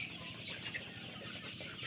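Sonali special hybrid chickens, forty days old, clucking together in a farm shed, a continuous low murmur of clucks with steady background noise and no talk.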